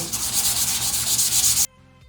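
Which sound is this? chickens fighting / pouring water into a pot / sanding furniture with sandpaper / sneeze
sanding furniture with sandpaper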